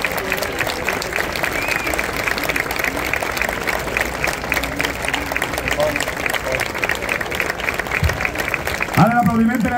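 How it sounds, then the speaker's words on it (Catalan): A crowd at a playback performance event applauds steadily for nearly ten seconds, with a voice starting to speak near the end as the clapping continues. "Ara l'aplaudiment per a ells"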